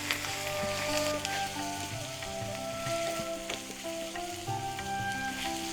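Chicken mince hisses and sizzles steadily as it fries in a pan with ginger-garlic paste, a dense continuous crackle at close range, with a faint tonal hum underneath and no voices.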